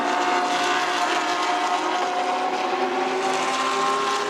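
GT race cars battling for position, a BMW among them, in GT World Challenge Asia: loud sustained engine roar with high-pitched whine and shifting tones as several cars scream past together, no talk.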